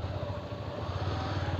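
A motorcycle rides through the flooded streets of a town in Assam during the 2022 floods, its engine giving a steady, close, low drone with no talk over it.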